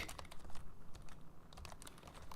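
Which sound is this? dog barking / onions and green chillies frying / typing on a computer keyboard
typing on a computer keyboard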